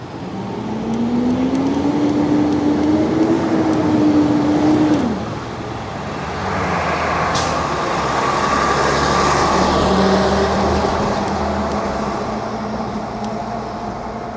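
Road traffic in Toronto streams past a cyclist, with a loud vehicle engine tone rising and holding for several seconds, then easing, followed by further passing cars and steady roadway rumble.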